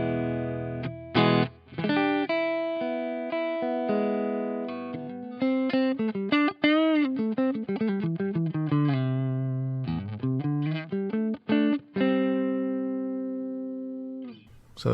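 A clean electric guitar, a Strat-style guitar with a humbucker on the neck pickup through a tube amp, plays a sequence of single notes and chords, ringing clearly with short pauses between phrases.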